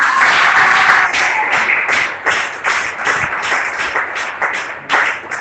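A church congregation bursts into sustained applause and cheering in acclaim, a dense, loud wash of many hands clapping with a continuous roar that eases slightly but carries on throughout.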